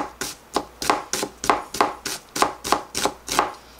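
A knife slicing an onion thinly on a cutting board, about ten crisp, evenly spaced chops in a steady rhythm, close and clear with no talking.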